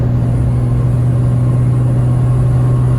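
A Cummins-swapped Ford diesel truck with a blown turbo drones loudly and steadily at full throttle after cresting a hill. The deep, constant engine roar is close and runs without a break.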